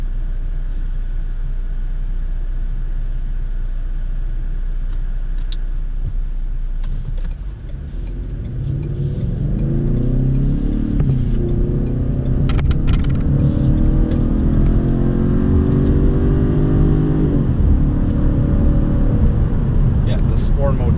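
2017 Ford Fusion Sport engine in Sport mode, idling low at first, then revving up and holding high RPM with a rising, steady exhaust note under ongoing talk inside the car.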